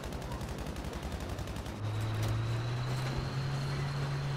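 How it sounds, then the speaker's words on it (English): A flak gun in the shooter game Battlefield 5 fires in rapid rhythmic bursts at a distance, beneath a steady low engine drone that grows louder partway through. "Oh, the flak gun's going back there too."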